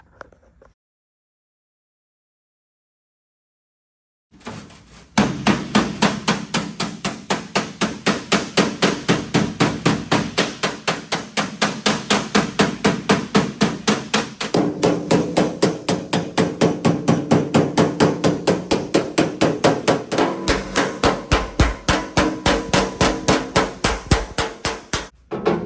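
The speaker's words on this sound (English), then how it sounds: "So let me see how this hammer operation goes." A metal hammer strikes over the edge of a 1970 Chevy truck door skin in a fast, steady run of sharp, close blows, starting after a few seconds of silence and continuing without pause.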